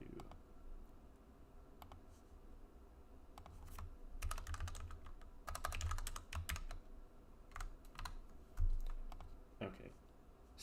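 Code typed on a computer keyboard, a steady patter of soft key clicks in uneven bursts, close and quiet, with occasional low room noise underneath.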